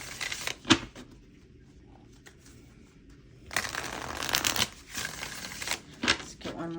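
Tarot cards being shuffled in two bursts of quick riffling and slapping, close and crisp, with a quiet pause between them.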